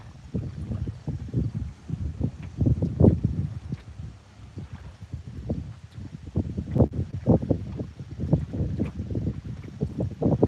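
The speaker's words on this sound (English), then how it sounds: "Apologize in advance for the wind noise." Gusty wind buffets the microphone on a boat on the water in irregular low rumbling bursts, loud and close, with no voices.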